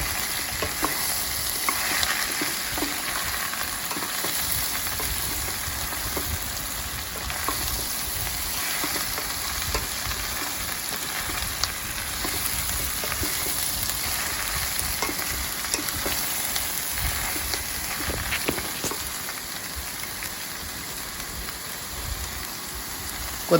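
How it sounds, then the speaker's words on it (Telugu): Pieces of bottle gourd sizzle steadily in a hot pan for a Telugu sorakai pappu pulusu, giving a dense, constant crackling hiss with faint scattered clinks of stirring. "ముక్కలు వేసిన తర్వాత మంచిగా కలుపుకోవాలండి."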